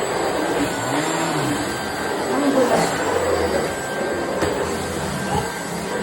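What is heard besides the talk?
vacuum cleaner running in a home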